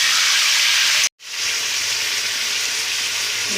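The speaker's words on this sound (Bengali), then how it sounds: "এবার আমরা মাংসটাকেও হালকা পরিমাণ ভেজে নেবো" Chicken pieces fry for chicken biryani in a pan, giving a loud, steady broadband sizzle that cuts out briefly near the start and then resumes just as strongly.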